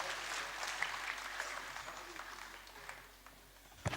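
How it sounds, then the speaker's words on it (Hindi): Audience applause at an evening cultural gathering celebrating Bundeli heritage, moderate clapping from a seated crowd that fades toward the end, heard fairly faint and distant. "कुछ कम तालियां"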